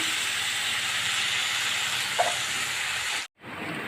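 Tomatoes and onions sauteing in a pan on the stove for a Tamil cabbage gravy, giving a steady, even hiss with no talk. Near the end it cuts out abruptly, then comes back.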